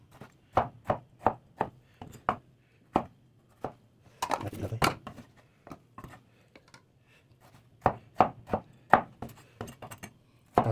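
Knife chopping ripe tomatoes on a board, with quick runs of crisp close taps split by pauses and a brief clattery burst midway, and no speech.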